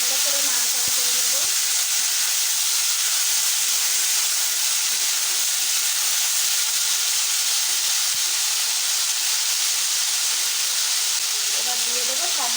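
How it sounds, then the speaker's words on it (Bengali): Olives stirred in a hot pan for chutney, giving a loud, steady sizzle and hiss throughout, with a few faint scrapes of stirring. "এবার জলপাইগুলো দিয়ে দেব। একটু ভালো করে নাড়াচাড়া করে নেব।"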